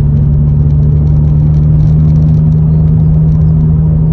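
A 2005 Ford Fiesta ST fitted with a big exhaust drives along at town speed, its engine giving a steady, loud, droning roar with a deep constant hum that holds throughout, no voices.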